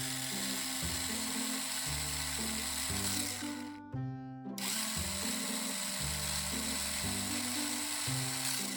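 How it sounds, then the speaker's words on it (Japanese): A mini 4WD car built on a wooden board runs its small electric motor and gear drive on one 1.5V battery, a steady high whine with shifting gear tones and a brief dropout midway, close and alone. "駆動音はこんな感じ。"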